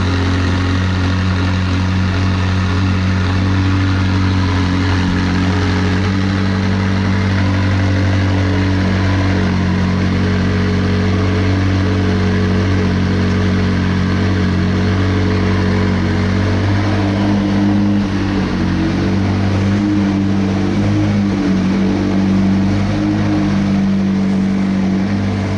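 McLaren 675LT supercar engine running steadily with a titanium exhaust, a loud, continuous deep drone with strong low harmonics and slight rises in intensity, close by and with no voices over it.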